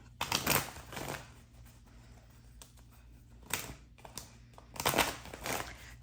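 A deck of tarot cards is shuffled in several short riffling bursts, four quick crisp flurries spaced by quiet pauses, close and fairly soft.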